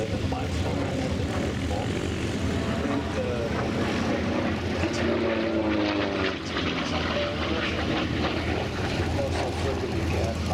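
Propeller aircraft flying over a Flying Legends airshow, a steady droning engine roar under a commentator's voice, with the pitch shifting slightly as it passes.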